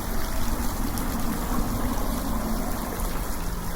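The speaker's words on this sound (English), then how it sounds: "Nice water feature at the entrance. The sound of running water is soothing in the city." Water from a fountain at a building entrance in Salford, Greater Manchester runs in a continuous, rushing splash, steady and fairly close, with city hum beneath and no voices.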